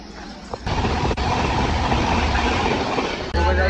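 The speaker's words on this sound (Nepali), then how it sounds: "हाम्रो यहाँ ट्रेन रोकिरहेको छ कुनै स्टेसनमा" Continuous rumble of a passenger train rolling along the tracks, with a steady dense roar inside the carriage and a couple of abrupt clunks or jolts, no voices.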